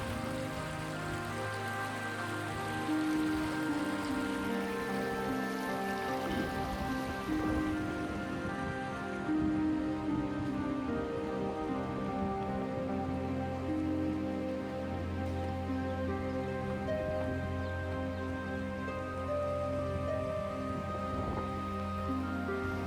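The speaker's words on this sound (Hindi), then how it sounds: "हमारी बाईं तरफ आप देख सकते हैं वो है पेंच नदी, और दाहिने तरफ बह रही है बरसाती नदी।" A seasonal monsoon river flowing into the Pench river at their confluence, a steady, dense rush of water like heavy rain on a surface, continuous and fairly close for over twenty seconds, with no voices.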